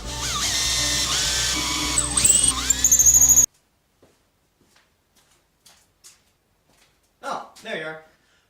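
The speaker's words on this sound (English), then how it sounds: "We're gonna drill a hole right in there." An electric drill whines as it bores into a wooden dowel rod, loud and close for about three seconds before cutting off, followed by near silence and a voice talking.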